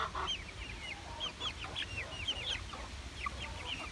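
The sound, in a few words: baby chicks and chickens clucking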